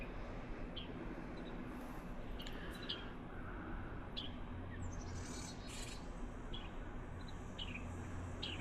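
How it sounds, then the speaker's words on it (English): Birds chirp faintly among garden trees on a summer day, short high calls scattered irregularly over a steady low background hum, distant and quiet. "Oh, the birds are up there having fun,"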